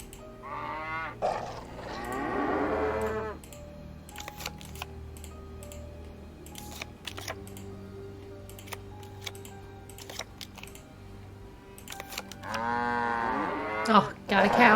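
Cow lowing in the Nancy Drew: The Captive Curse game, two long drawn-out moos at the start and end, with scattered keyboard clicks and faint game ambience between them.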